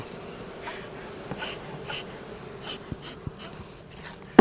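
Soft, steady buzzing of bees being smoked at a hive hums in the background with a few faint clicks and taps scattered through, ending in a brief louder knock.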